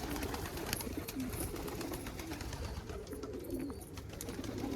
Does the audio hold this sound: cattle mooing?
no